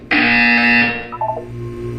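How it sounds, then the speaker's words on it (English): One loud, harsh electronic buzzer from the video game Portal 2, held for nearly a second and then cut off, followed by a few short, quieter electronic blips. "You will hear a buzzer."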